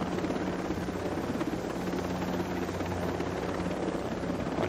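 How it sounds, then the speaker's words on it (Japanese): Helicopter rotor from the video game Ghost Recon Breakpoint, a steady, loud, continuous thumping drone with heavy low rumble held at constant level throughout, no voices over it. "プロペラの径が普通のヘリコプターに比べて大きいんじゃないかな"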